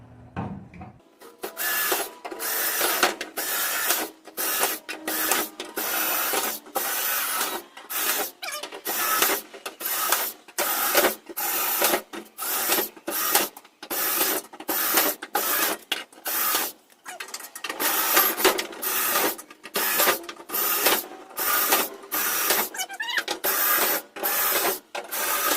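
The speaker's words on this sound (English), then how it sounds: "I'm going to go ahead and drill all the holes in the wood" Repeated bursts of a drill boring holes through wood for a raised garden bed, each a harsh whirring rasp lasting about a second, separated by short pauses, close and loud.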